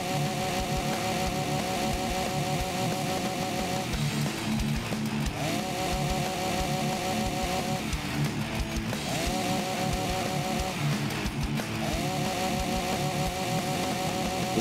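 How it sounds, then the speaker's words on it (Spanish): A chainsaw buzzes in the Walking Zombie II video game, revving in repeated whining bursts of a few seconds each over a dense, continuous game soundscape. "No quiero ir con la motosierra que hace mucho ruido."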